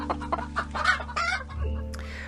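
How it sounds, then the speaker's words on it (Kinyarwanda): Domestic chickens clucking in a quick run of short, close clucks, fairly loud and alone, trailing off into a lower hum and a brief higher call at the end. "Twitwa inkoko, turi batatu."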